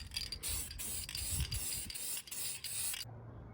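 A spray paint aerosol can hisses in a run of short repeated bursts with brief gaps between them, close by, then cuts off abruptly into quiet.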